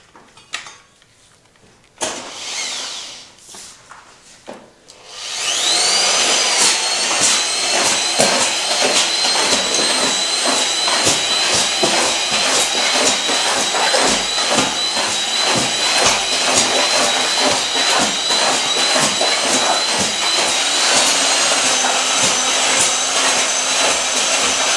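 Power mixer churning sharp sand mortar, starting with a few scrapes and knocks, then a loud, continuous grinding whir with rattling grit that runs unbroken to the end.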